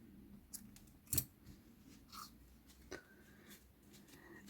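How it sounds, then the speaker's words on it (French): Scissors snip crochet yarn while a small amigurumi chick is being finished, giving one crisp, close cut amid faint handling rustles and light ticks in a quiet room. "et je vais couper le fil"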